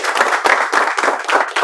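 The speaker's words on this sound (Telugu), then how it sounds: "Boys claps." Students in a spoken-English classroom clap together, a brief burst of loud close applause with rapid overlapping hand claps.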